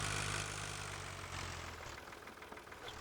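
Tractor engine idling in Farming Simulator 2013, a cabless tractor model, giving a steady low rumble with a faint knocking pulse that fades slightly over a few seconds, heard alone.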